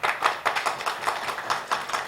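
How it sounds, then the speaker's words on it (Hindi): Audience applause in a lecture hall during a Hindi talk, heard as a short, steady patter of clapping hands with a slightly uneven rhythm and moderate loudness, with no voice over it. "जैसा तालियां बजा दीजिए इस पर"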